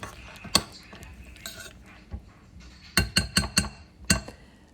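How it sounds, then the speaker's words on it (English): Utensil clinks against a bowl of melting chocolate in several sharp taps as it is stirred, a quick cluster of them near the end, set against a quiet background. "then I will just stir it and keep stirring it until everything is melted."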